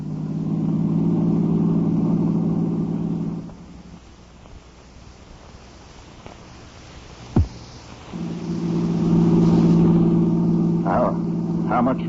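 A car engine drones loudly and steadily, drops away for several seconds, then surges back up, accelerating again with wind noise, during a tense radio-drama drive-in scene.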